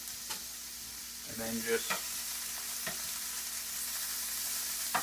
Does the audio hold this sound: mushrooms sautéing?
yes